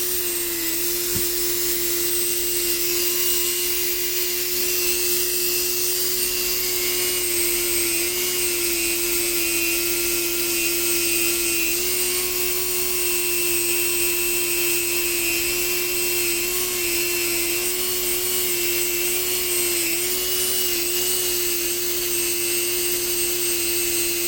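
Continuous high-pitched whine of a small rotary power tool polishing cheap Glock internal parts with compound, steady and close for the whole stretch with little variation and no talk.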